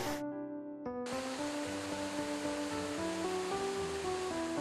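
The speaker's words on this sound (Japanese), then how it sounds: "信濃滝に到着し、" The Shinanotaki waterfall in a cool mountain gorge near Miyoshi gives a steady rushing roar under background music, starting after a short musical opening.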